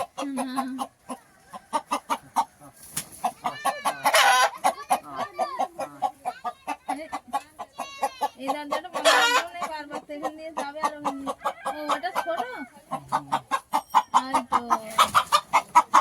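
Native country chickens cluck busily and a rooster crows at close range in a rural yard, a loud, continuous run of rhythmic clucks with brief crowing bursts and a voice occasionally talking over them.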